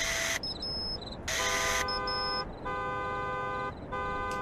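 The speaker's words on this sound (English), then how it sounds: "Find a way to disable the car alarm." A car alarm sounds in the Graveyard Shift video game, looping harsh electronic buzzing and beeping tones in alternating bursts, loud and alone with no talk.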